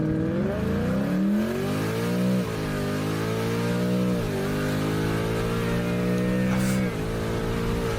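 A Ford Mustang S550 with a 10R80 transmission accelerates hard from a dig, its loud engine note climbing through rising revs, dipping briefly at each quick gear shift before pulling up again.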